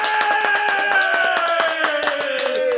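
Applause greets a guest as he joins a talk show: steady clapping that runs the whole moment, mixed with a sustained, slowly falling musical tone.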